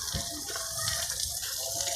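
Water pours steadily close by, a continuous splashing gush with no talk over it.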